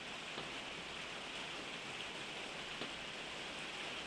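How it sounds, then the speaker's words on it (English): Heavy rain falls outside in a steady, soft hiss of drops, heard from a distance, with a few faint clicks. "Oh, the rain is getting heavier again."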